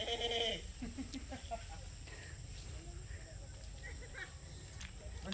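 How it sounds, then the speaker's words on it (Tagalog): Goats on a farm give a few bleats near the start, then a low, steady murmur of animal sounds with people talking faintly in the background. "Daming kambing, oh."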